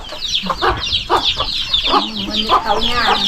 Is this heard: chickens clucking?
yes